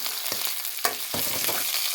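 Potatoes fry in a pan with onions and ginger for a fish, potato and tomato curry, a continuous close sizzle broken by several scraping stirs, with no talking.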